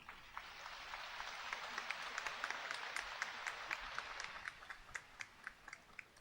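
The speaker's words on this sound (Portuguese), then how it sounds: "Aí eu peço uma salva de palmas" A congregation applauds during a Sunday Mass, a fairly faint, distant wash of clapping with a few sharper individual claps standing out, steady throughout.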